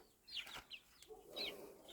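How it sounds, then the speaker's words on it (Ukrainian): Older chicks from a Cochin rooster and mixed-breed hens give a few short, high cheeps and soft clucks at moderate distance outdoors, in scattered bursts over quiet background noise. "Ось старші курчатка."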